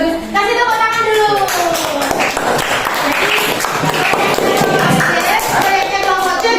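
A classroom of students claps for a group's project, a loud, sustained round of many hands close by, while a teacher's voice speaks over the clapping.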